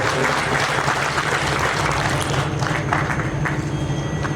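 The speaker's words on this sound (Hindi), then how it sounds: "जोरदार तालियां हमारी खूबसूरत आवाम ऑडियंस की तरफ से।" Audience at a hospital inauguration ceremony applauds vigorously in a continuous, loud roar of clapping, with a low steady hum running underneath.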